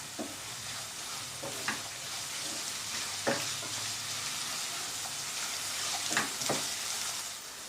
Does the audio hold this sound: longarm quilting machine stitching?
no